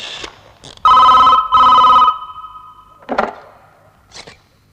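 A telephone rings for an incoming call, with two loud, close electronic trill bursts followed by quieter clicks and short tones.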